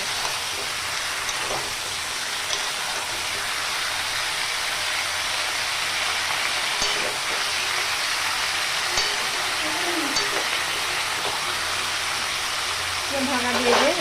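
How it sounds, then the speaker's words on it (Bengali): Salted vegetables for til chichinga fry in a pan with a continuous, even hiss throughout, while a voice talks now and then. "এটাকে ভালো করে এবার আমি একটু ভেজে নেবো প্রথমে।"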